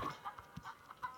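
Cartoonish chicken clucks from the mobile farming game Egg Inc, a handful of short, quiet clucks scattered across a brief moment with no talking.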